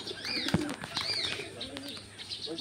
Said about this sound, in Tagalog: Sarap makipaglaro sa kalapati.